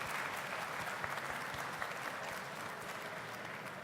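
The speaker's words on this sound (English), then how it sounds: "Round of applause for Rare." Audience applause in a theatre at a games expo, a dense, steady patter of clapping that fades slightly over a few seconds, heard at a distance and fairly faint.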